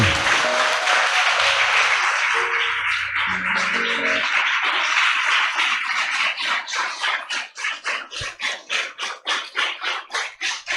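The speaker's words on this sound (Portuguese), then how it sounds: "Dê uma poderosa salva de palmas para o Senhor." A church congregation claps and applauds, starting as dense steady applause and thinning into slower, rhythmic hand clapping toward the end, with faint musical tones underneath early on.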